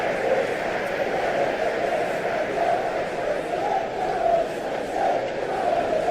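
A stadium crowd in the eFootball PES 2021 football game roars in a continuous, loud, swelling wash of cheering and chanting during a Premier League match between Everton and Chelsea.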